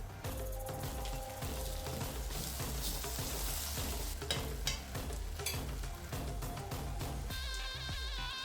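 Chicken noodles being stirred and tossed in a pan with vinegar and soy sauce, giving continuous scraping, clattering and sizzling with rhythmic utensil strikes, close and steady throughout, no talking.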